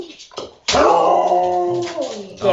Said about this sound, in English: Yeah, see if you can get Willow to howl